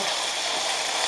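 Pieces of rabbit browning in a hot pan give off a steady, dense sizzle that holds at an even level throughout, with no voices over it.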